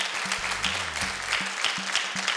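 A television studio audience applauds in a short, steady burst of clapping, moderately loud and without talk, heard alone.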